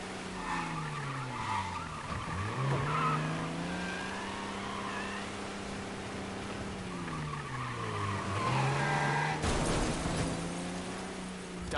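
Car tires squeal in long sliding skids during a chase in the Mafia video game, rising and falling engine tones under them, ending in an abrupt loud crash burst near the end.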